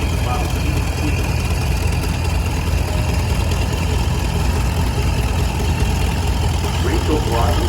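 A 1935 model PDC antique tractor idles at a parade of power in northern Michigan, a steady low engine rumble running continuously and fairly loud with background crowd and road noise.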